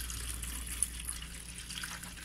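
Water pours steadily into a 96-egg incubator, a faint continuous trickling and gushing close by with no talk over it.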